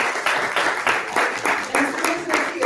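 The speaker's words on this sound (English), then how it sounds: "Round of applause for Tom Perez." An audience applauds Tom Perez as he is brought up to speak at an anniversary celebration of the March on Washington, steady clapping across the room with some voices mixed in.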